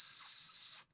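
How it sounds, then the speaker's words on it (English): A short burst of Oreo Resolute MK3 capsicum pepper spray hisses steadily for under a second, close and loud, then cuts off abruptly into silence. "I grabbed my military-issued Oreo Resolute Capsicum Pepper Spray called MK3"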